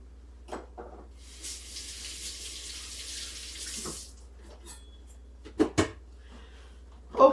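Water pours out of a pot into a kitchen sink in a steady rushing stream for several seconds, followed by a few clanks and knocks of the pot, with no speech.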